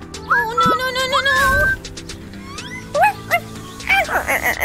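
A dog yips, whimpers and barks in short, excited bursts close by, its high whining cries rising and falling between shouts as people talk loudly over it.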